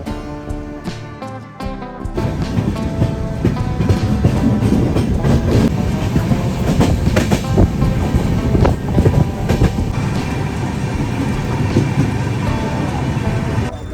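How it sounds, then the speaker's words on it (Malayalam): A passenger train runs along the Konkan railway line with a steady, loud rumble and rhythmic wheel clatter that continues throughout, heard from close by. "ട്രെയിൻ ഇപ്പോൾ കൊങ്കൺ റെയിൽ പാതയിൽ കൂടെയാണ് പോയിക്കൊണ്ടിരിക്കുന്നത്."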